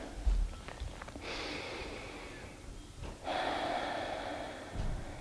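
Slow, natural breaths during guided meditation, close and clear: a sharp intake, then long airy exhales and another full breath in and out, with no talking.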